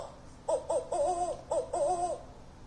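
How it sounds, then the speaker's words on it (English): A recorded owl hoots from a children's sound book in two rhythmic phrases of wavering, tonal calls, clear and moderately loud over a quiet background. "Owl."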